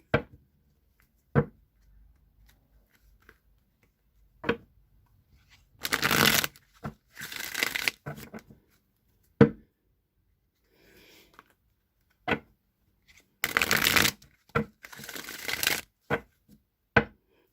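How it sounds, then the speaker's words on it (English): A Rider-Waite tarot deck being shuffled, with two long riffling bursts separated by soft, sparse taps and knocks of cards being squared and set down, close and clear in a quiet room. "I'm going to shuffle the Rider-Waite deck now a few times"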